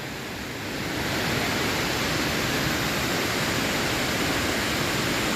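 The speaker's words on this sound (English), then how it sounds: "And then more waterfalls down there." Waterfalls rush down steep rocks in Ricketts Glen State Park, giving a loud, steady broadband roar that swells over the first second and then holds evenly, with no voices.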